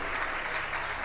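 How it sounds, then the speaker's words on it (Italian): Audience at a national pastry championship award ceremony applauds, a brief, dense, even wash of clapping heard at moderate distance. "E allora un bel applauso,"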